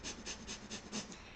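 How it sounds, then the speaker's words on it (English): Rapid, rhythmic nasal breath-of-fire breathing in a yoga practice, with about six sharp, evenly spaced exhales pumped through the nose, close and fairly quiet, with no talking. "We're going to be doing breath of fire with our nose."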